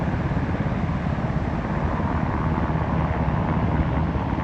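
Coast Guard helicopter flying overhead near a coastal campground and cliffs, a loud, steady low rotor and engine roar that holds without a break throughout.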